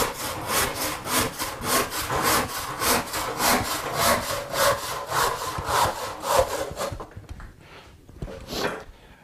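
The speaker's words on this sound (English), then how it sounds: "it takes no time at all with a handsaw" Handsaw crosscutting a wooden board, about twenty quick rhythmic push-pull strokes, loud and close, slowing to a few final strokes with a short pause before the last one.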